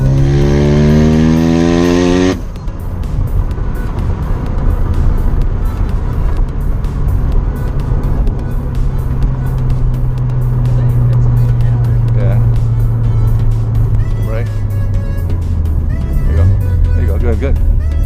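Mazda RX7 FD rotary engine pulling hard at full throttle, a loud, steady buzzing drone that climbs in pitch through the gears, heard from inside the car with brief talk at the start.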